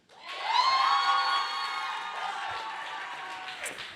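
A live show audience cheers and whoops loudly for Dobby, a crowd roar that swells quickly and then holds steady before fading out.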